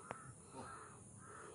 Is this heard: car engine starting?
no